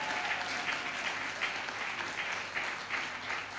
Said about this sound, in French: je vous demanderai de les applaudir sérieusement